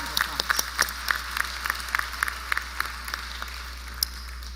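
Scattered claps from a graduation audience at a college prep school ceremony, a sparse, uneven patter of individual hands rather than a full ovation, moderately distant with a steady room hum underneath.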